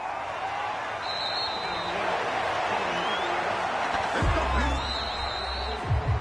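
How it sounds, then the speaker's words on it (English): A home crowd applauds at an NAL Jaguars at Broncos football game, steady spread-out clapping and crowd murmur, heard under a commentator's talk, with a few thumps near the end. "And the home crowd applauding."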